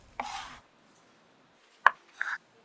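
A few crisp knife chops through parsley against a cutting board, one at the start and two close together later, with quiet gaps between.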